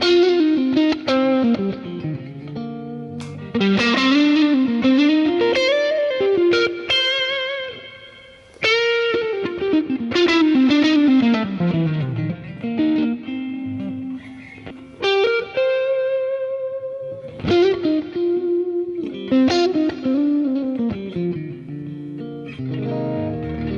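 Electric guitar played through an HX Stomp dual-amp preset blending Dumble and Deluxe Reverb tones, with sustained chords and melodic lines, light drive and reverb, loud and continuous throughout.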